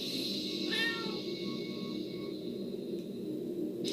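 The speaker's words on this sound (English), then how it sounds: "I somehow found a cat." A cat in the video game Tokyo Dark Remembrance gives a single clear, drawn-out meow over a steady low game background hum, close and fairly prominent, with no speech.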